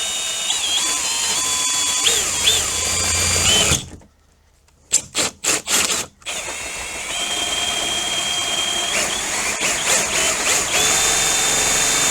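A power drill with a hole saw grinds steadily through a door for a deadbolt, stops for a moment with a few short bursts and knocks, then resumes cutting loudly.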